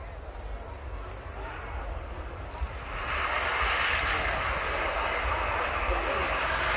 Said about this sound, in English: takeoff roll and straight up to 30 degrees of pitch. A Fairford first, a UK first, the Airbus A400M.